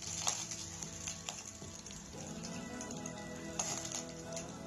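Curry leaves crackle and sizzle in hot oil with roasting urad dal, making a steady, soft frying hiss dotted with small pops.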